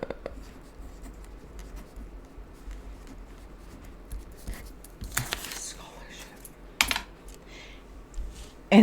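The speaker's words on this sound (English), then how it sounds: "I need to write that down for a moment." Pen writing a note on paper, soft close scratching strokes, with a few louder knocks and rustles between them.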